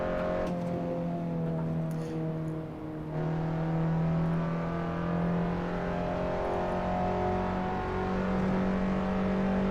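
A Vauxhall VX220 (Opel Speedster) in Assetto Corsa accelerates with a steady, loud engine drone that climbs through the revs, with a brief dip and a gear change before pulling on again.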